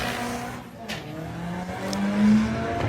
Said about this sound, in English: Much stronger looking launch.